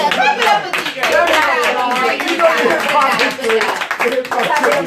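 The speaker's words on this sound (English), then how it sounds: "clap it up for Deedray." Audience clapping and cheering at a hip hop podcast taping, sustained and loud, with voices talking and shouting over it.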